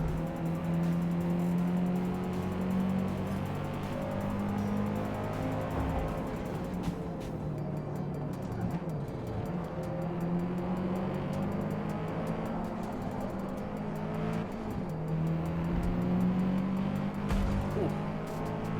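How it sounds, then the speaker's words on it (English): Race car engine in Forza Motorsport 2023 on PC, driven off the track onto dirt: a steady loud engine drone shifts pitch through gear changes, with crackling gravel and tire noise, continuous throughout. "you see those sounds when you dip off to the dirt?"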